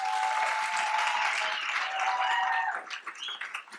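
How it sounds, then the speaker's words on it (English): Applause from the audience at a housing update town hall fills the room, steady clapping that holds strong before thinning into scattered claps near the end. "Give her a big round of applause."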